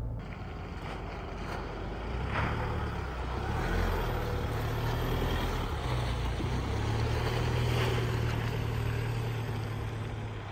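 Isuzu D-Max AT35 pickup driving off-road, a steady low engine and drivetrain rumble with rushing wind and road noise, loud and continuous throughout with no talking.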